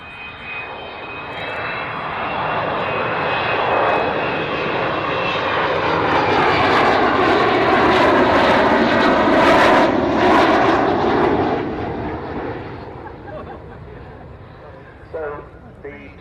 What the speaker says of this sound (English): this fabulous aircraft comes back to make lots more noise